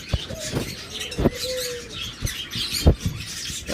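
Caged pet birds at a seller's, lovebirds including high-mutation fallow and creamino types with forpus, budgies, cockatiels and finches, giving scattered short chirps and squeaks near and far amid rustling and background noise.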